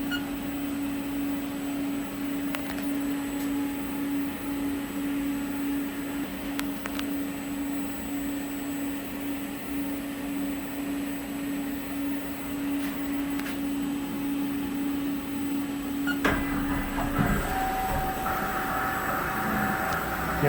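A CNC machine runs its program after cycle start with a steady, fairly quiet mechanical hum and a constant whine. The texture shifts near the end as the machine changes motion. No voices are heard.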